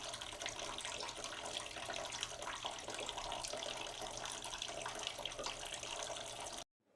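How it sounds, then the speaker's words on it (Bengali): Rui fish mustard curry boiling vigorously in an open pan, a steady dense bubbling and hissing that stays loud and close throughout before cutting off abruptly at the end. "ঝোলটাও খুব ভালোভাবে ফুটে গেছে।"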